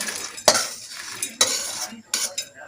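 Chana dal, coriander seeds and cumin dry roast in a pan for curry leaf spice powder, stirred with a spatula. A few sharp metallic scrapes and clinks sound up close, separated by quieter gaps.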